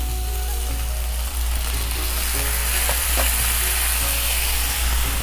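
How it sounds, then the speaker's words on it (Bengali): Cabbage kofta curry sizzling loudly in a pan, a dense continuous fry with occasional stirring scrapes and soft knocks, close up and without voices. "বন্ধুরা আমি আবার একটু নেড়ে দেব। দেখো বন্ধুরা কত সুন্দর ভাজা ভাজা হয়ে গেছে।"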